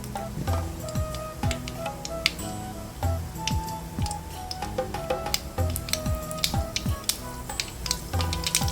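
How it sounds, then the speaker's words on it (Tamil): Mustard seeds spluttering in hot oil for a spicy Tamil onion chutney, a steady run of sharp crackles and pops over a low sizzle, close and continuous with no talk. "கடுகு ஊற்றிக்கலாம்."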